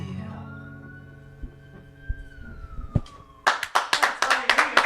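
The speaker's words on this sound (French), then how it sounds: "sirène à la fin, c'était cool" A police siren wails with a long rising then falling tone as a live song ends, followed by loud bursts of audience clapping.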